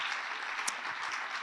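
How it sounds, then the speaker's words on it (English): An audience at the Crossing Europe film festival awards ceremony applauds the filmmakers, dense steady clapping from many hands filling the room without pause. "I would be very happy if you could also applaud to all the filmmakers who are present tonight from all over Europe"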